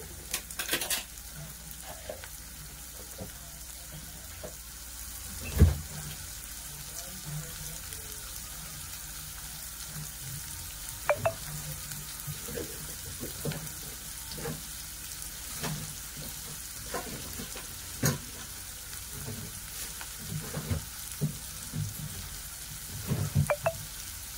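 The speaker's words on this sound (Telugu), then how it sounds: "కొద్దిగా నూనె వేసుకొని అందులోకి ఉల్లిపాయ అనేది మనకి బాగా మగ్గాలి" Chopped onions fry in a little oil in a pan for a cashew butter masala curry, giving a steady close sizzle broken by repeated scraping and clattering as a spatula stirs them.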